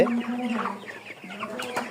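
Chickens cluck and murmur close by, a steady low chatter from several birds with occasional sharper notes.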